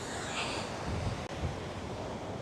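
Ocean waves surge and break against a rocky point beneath a cliff on a day of heavy spray, a steady, close roar of surf with wind buffeting the microphone.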